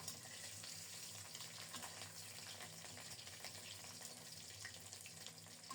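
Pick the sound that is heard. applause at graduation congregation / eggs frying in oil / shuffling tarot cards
eggs frying in oil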